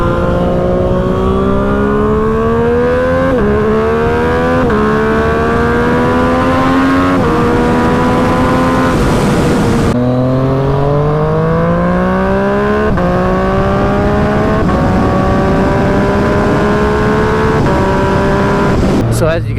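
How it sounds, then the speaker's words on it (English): Yamaha FZ-09 motorcycle with a Competition Works exhaust accelerating hard through the gears, each pull rising in pitch before a shift drops it back, loud and close throughout, with no speech. "Down low, the bike Really sounds deep and bassy, but once you get up top, it screams."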